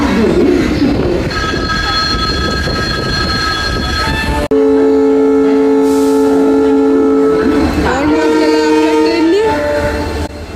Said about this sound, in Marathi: धुळे एक्सप्रेस WDP 4D नी हॉर्न मारलेला आहे